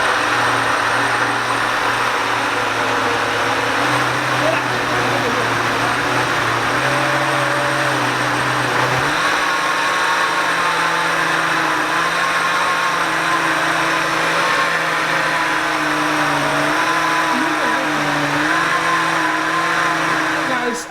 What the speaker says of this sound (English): It will eventually start blending.